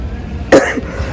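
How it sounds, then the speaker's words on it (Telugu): A single short cough from someone with a cold, close and loud, in a chilly outdoor setting in Assam with faint background noise around it. "జలుబు దగ్గైతే తగ్గితేలేదు నాకు."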